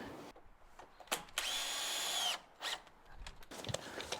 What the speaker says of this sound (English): these are going to go on and get screwed onto the end of the rafters